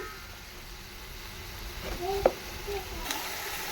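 Soft, steady sizzling of green chili and garlic-ginger paste hitting hot oil for sarson ka saag tempering, with a brief clatter of stirring midway; fairly quiet and close.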